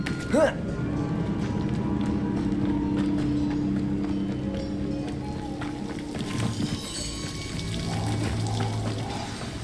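A waterfall in the Hogwarts Legacy video game pours as a steady, dense rushing wash that fills the whole stretch, with faint game tones and a brief knock near the start.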